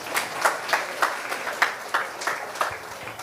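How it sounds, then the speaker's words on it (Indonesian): Audience applause at a talk, a small group clapping in a loose, fairly even rhythm of about a dozen distinct claps, moderately quiet. "tepuk tangan dulu"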